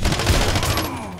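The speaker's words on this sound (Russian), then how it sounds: "Вот этот звук я больше всего люблю. Звук попадания в твою пустую голову." Gunfire in the online shooter Warface, ending in a bullet hitting an enemy's head: a dense burst of loud close shots, then a brief hit and fading tail, with no voices.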